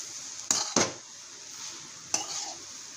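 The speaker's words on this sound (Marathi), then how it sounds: "गूळ टाकल्यानंतर पाच मिनटं असं हलवून घेते" A spoon stirs jaggery modak filling in a pan, with three sharp scraping knocks against the metal over a soft background hiss.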